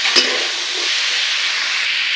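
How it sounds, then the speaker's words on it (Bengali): Taro stolons with dried fish, salt and turmeric fry in a pan with a steady, bright sizzle and hiss, a brief stir clink near the start, close and continuous without talk. "এখন এটাকে ভাজা ভাজা করে নিচ্ছি"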